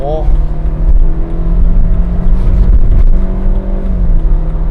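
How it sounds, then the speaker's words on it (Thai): A BMW 116i F20 M Sport in sport mode accelerates hard, its engine note rising and droning loudly from inside the cabin while someone talks over it. "116 M Sport นะครับ โหมดสปอร์ตพัด มาดูกันว่าจะเป็นยังไง ผมตามเขาเร่งไปเลย"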